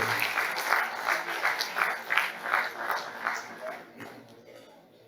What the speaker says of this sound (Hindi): एक बार जोरदार तालियां बजाएं नरेंद्र मोदी जी के लिए